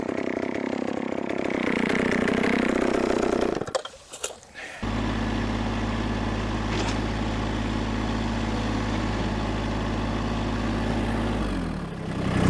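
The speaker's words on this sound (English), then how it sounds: "Had the tractor in gear. Safety mechanism killed it." A tractor engine, working in a field while hedge wood is split, runs loud and rough, then cuts out abruptly and falls nearly silent. It soon returns as a steady low drone before winding down near the end.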